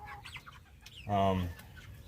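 A few soft clucks from meat chickens of about 7 pounds close by, with one louder, longer cluck in the middle.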